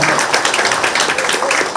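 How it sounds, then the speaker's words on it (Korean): Audience applause at a campaign office opening for a Gumi mayoral candidate, a dense, steady wash of clapping filling the whole moment at close range with no pause. "우리 부인께도 여러분 큰 박수 한번"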